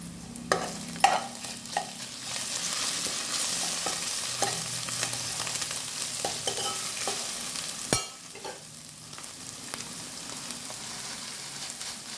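Cumin seeds and turmeric fry in hot mustard oil for a fish curry, a steady close sizzle with occasional stirring scrapes and one sharp knock near the end.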